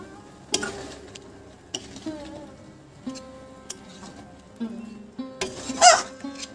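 Spiced gram flour curry is stirred in a pan, with a series of distinct spatula scrapes and metallic clinks against the pan over a quiet sizzle, close and intermittent, ending in a louder scrape.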